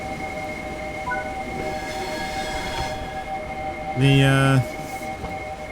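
A Class 465 electric train pulls away in a train simulator game, a steady rumble of rolling stock with a loud tonal horn-like blast near the end, while a voice says a single word.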